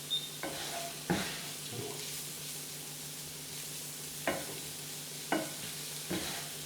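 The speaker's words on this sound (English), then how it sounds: "I want to cook this a little bit so the flour is a little bit toasted" Flour toasting in a frying pan for Salisbury steak gravy, stirred by hand: a soft continuous sizzle with several sharp scraping strokes of the utensil against the pan, close and alone.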